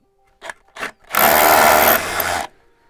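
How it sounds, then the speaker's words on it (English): Two short bursts of a power drill boring into a wall to fit a fence post, then a sustained loud whirring drill run of over a second that cuts off abruptly. "get the drill in and just give it a quick pulse"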